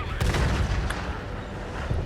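Tank cannon shot in World of Tanks Modern Armor on PS5, heard as one heavy boom with a sharp broadband onset followed by a low rumbling tail over dense game background noise.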